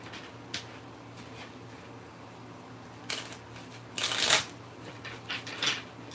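A deck of tarot cards is shuffled by hand in a quiet room, soft riffling with a few brief crisp bursts of card flutter near the end over a low steady hum.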